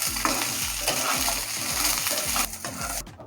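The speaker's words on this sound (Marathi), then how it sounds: "इथे मी कढईमध्ये 1 चमचा तेल टाकून आपल्याला हे छानपैकी भाजून घ्यायचे" Beans fry in a spoon of oil in a kadhai, sizzling close and loud with rhythmic scraping strokes of a spatula against the pan, then stopping near the end.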